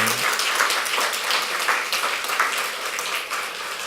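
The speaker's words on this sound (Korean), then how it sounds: "우리 박수로" A church congregation at an ordination and revival service applauds, a sustained broad clatter of many hands lasting several seconds.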